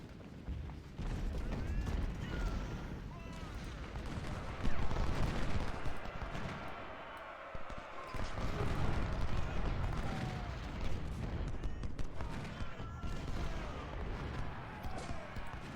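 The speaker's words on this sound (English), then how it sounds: "it's these guns firing on me" Civil War artillery and rifle fire in the strategy game Ultimate General: Civil War, a dense, continuous crackle of distant gunshots with booming cannon reports, going on steadily throughout with someone talking over it.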